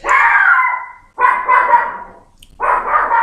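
A dog barks in three loud, drawn-out bursts close by, with a short silence between each, and no talk over it.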